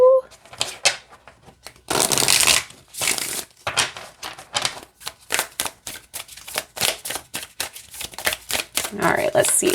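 Oracle cards are riffled and shuffled in quick, repeated bursts of papery flutter and snapping, close up, with brief pauses between.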